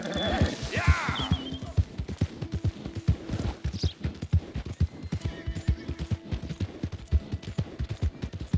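Rapid, rhythmic hoofbeats of a galloping horse in Red Dead Redemption 2, loud and close, with a brief whinny at the start and other game sounds layered over the steady clatter.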